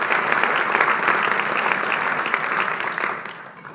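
A luncheon crowd at a business awards event applauds for several seconds, a thick steady patter of many hands that starts tapering off toward the end.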